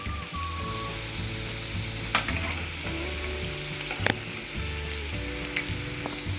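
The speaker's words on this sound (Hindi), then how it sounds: "अब इसको मैं ऑयल में शामिल करती जाऊँगी इस तरीके से।" Flour-dipped potato fries going into hot frying oil, producing a continuous crackling sizzle with occasional sharp pops, up close, under steady tonal background music.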